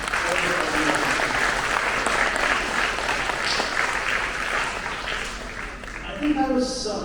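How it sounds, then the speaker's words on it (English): Applause from a large symposium crowd of some 600 delegates honoring the organizing team, a continuous, full wash of clapping that tapers slightly toward the end as other sounds creep in. "A big round of applause for the organization."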